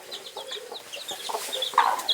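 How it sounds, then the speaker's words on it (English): On a Kienyeji poultry farm, a hen with two chicks clucks in a steady run of short calls, with chick cheeps and a louder squawk near the end, all close by and without speech. "Here you can see another hen"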